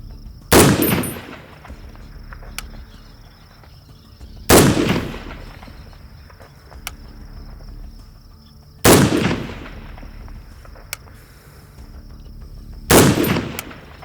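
Four loud, sharp rifle shots from a Springfield M1A Scout ring out, evenly spaced about four seconds apart, each blast followed by a rolling outdoor echo that fades before the next.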